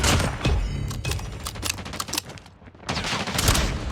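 Rapid bursts of gunfire from the Call of Duty Mobile shooter game, a shotgun among them, crack repeatedly and loudly for several seconds with a brief lull before firing resumes.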